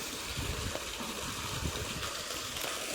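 Water from a well gushes and gurgles along a farm irrigation channel, a steady, soft rushing flow with low bubbling churn, heard alone without talk.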